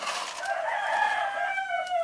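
Laying hens at feeding time make a drawn-out, rising and falling crowing call close by, loud and alone, with no voices.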